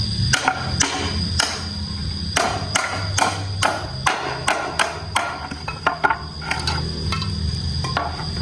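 Hammer blows pounding something in, a run of sharp irregular strikes, close and fairly loud over steady background hum and insect-like buzzing, with no talk.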